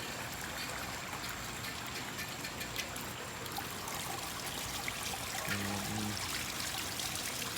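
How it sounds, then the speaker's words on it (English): A 1992 Kohler Kingston toilet with a Water Guard flushometer runs water, a faint, steady rushing trickle throughout with a brief low hum partway through, heard alone without talk. "The flushometer is going to go through, I guess"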